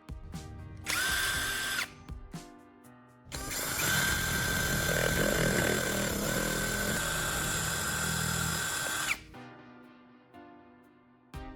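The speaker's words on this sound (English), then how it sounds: "so I'm going to drill it a bit larger." A power drill whines as it widens a hole in a laptop charger casing, a short burst followed by a long steady high-pitched run, close and loud with no talk.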